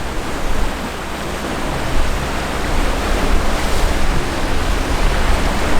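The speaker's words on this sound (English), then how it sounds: "right now we're motor sailing" A sailing catamaran motor sailing on the sea under main and genoa, heard as a steady, loud broadband rush of water and wind with a low engine rumble underneath, continuous with no talking.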